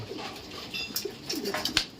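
Pet doves or pigeons drinking 3-in-1 coffee coo softly and repeatedly, with small chirps and clicks over a moderate background hiss, close by and without talk.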